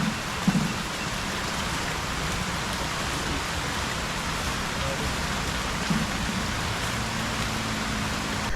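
Steady rain falls throughout, a continuous dense hiss at moderate level with no clear pauses, with a faint low rumble underneath.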